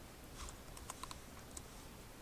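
Light typing on a computer keyboard, a few scattered soft keystroke clicks in a quiet room, with no talking.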